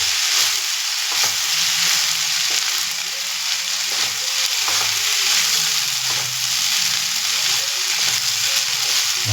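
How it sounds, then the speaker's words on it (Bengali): Vegetable Hakka noodles with spices fry on high flame on a small tawa, giving a loud, continuous sizzle broken by repeated scraping and tossing strokes of a spatula. "মশলা দিয়ে দিলাম, হাই ফ্লেমে এটাকে ভাজতে হবে।"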